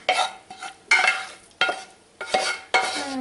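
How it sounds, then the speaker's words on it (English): Sautéed vegetables being stirred into a Thanksgiving dish in a pot, giving five bursts of scraping, sizzling spoon strokes that each fade before the next, close by with no talking. "Now I'm going to add my sautéed vegetables. Stir them right in here."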